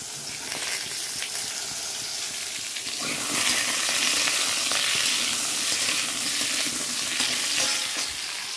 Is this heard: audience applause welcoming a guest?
no